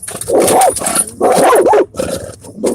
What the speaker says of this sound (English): Right there, that's my dog.